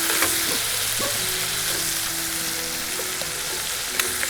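Chicken pieces sizzle and crackle steadily in a hot cast iron pan at a Washington State Park camp cookout, a dense, even frying hiss with faint clinks of utensils.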